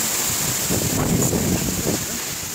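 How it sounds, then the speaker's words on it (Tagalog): Strong gusting wind during tropical storm Kristine, roaring across the microphone with a steady broadband rush and low buffeting swells, loud and continuous. "sobrang lakas ng hangin"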